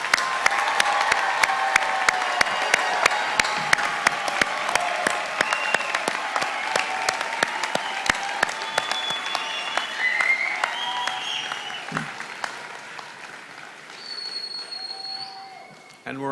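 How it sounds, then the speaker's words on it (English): A large crowd at a Purdue Global in-person commencement ceremony gives sustained applause for graduates, dense clapping with scattered whistles and cheers that gradually fades out toward the end. "let's give one more round of applause to all of our graduates."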